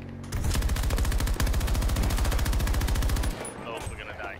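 Rapid sustained bursts of PKP machine gun fire in the shooter game Battlefield 2042, a loud, evenly paced stream of shots lasting about three seconds before cutting off, with faint game ambience after.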